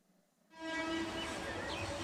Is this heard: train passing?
yes